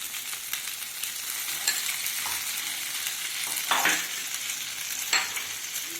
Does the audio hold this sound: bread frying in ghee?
yes